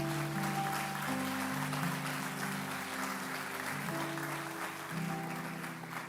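A church congregation claps steadily for several seconds, a sustained, fairly faint wash of applause with a sustained musical tone underneath.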